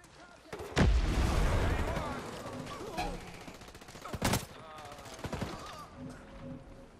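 Gunfire in the video game Ghost Recon Breakpoint, with a loud close burst of shots followed by more cracks and rattles of fire, while voices talk over the fighting.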